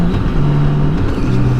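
A BMW K1600 GTL motorcycle engine cruises in sixth gear on the Autobahn at about 2,500 RPM, giving a steady, smooth low drone with wind rush, loud and continuous.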